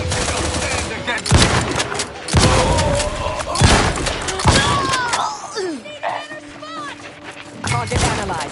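Gunfire in The Outer Worlds 2 comes in loud, heavy bursts spaced about a second apart, with thuds and sharp electronic whines between them and game voices talking over the action.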